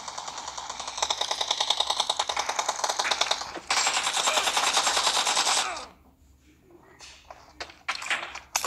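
Rapid automatic AKM rifle fire in a video game arena match, loud sustained bursts for several seconds, then a pause and scattered shorter shots with faint game sounds.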